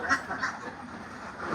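Ducks on a duck farm in Laos quack in a quick cluster of nasal calls, close and fairly loud, with more quacks trailing off near the end.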